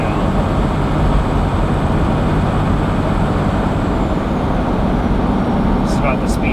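Cummins-swapped Land Cruiser on 37-inch tires cruising in fifth gear, a steady loud broadband drone of engine and road noise with vibration, continuous throughout without letup.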